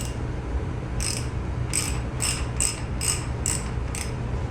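Ratchet clicking in short bursts while bolts are loosened on the front end of a Kawasaki KZ 750 motorcycle, with about seven quick ratcheting strokes over a steady low background hum.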